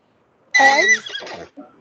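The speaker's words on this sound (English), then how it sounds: "That's a horse." A single loud, close horse whinny, rising and then breaking into shorter fluttering pulses before a brief snort.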